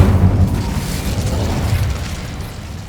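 A fiery Incendio spell is cast in the Hogwarts Legacy video game, a loud rumbling burst that trails off into a dense, sustained roar lasting a few seconds with no voice over it.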